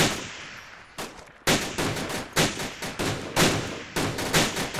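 Rifle fire in ArmA 2 Operation Arrowhead, a string of loud, sharp shots and short bursts cracking out at uneven intervals, each ringing out briefly, with no talk over it.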